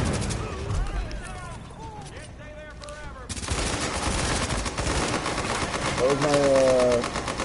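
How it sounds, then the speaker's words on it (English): Enemy gunfire in Tom Clancy's The Division on the Police Academy mission rattles in steady bursts and fusillades, loud and continuous under a player talking. "those guys are just sitting there shooting"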